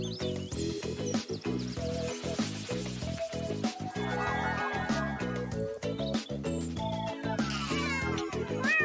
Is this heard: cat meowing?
yes